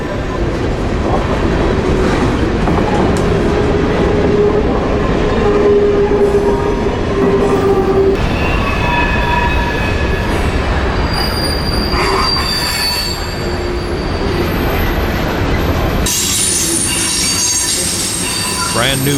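A heavy freight train of hoppers and boxcars loaded with raw materials rolls past close by, with loud metallic wheel squeals and a constant rumbling clatter of cars continuing throughout.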